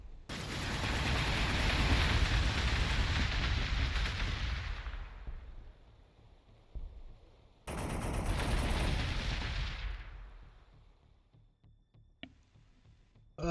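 Units open fire on a city in Warhammer 40,000: Gladius, a loud sustained barrage of gunfire and blasts lasting several seconds, fading out, then a second volley of shooting that decays into quiet, with no talk over it.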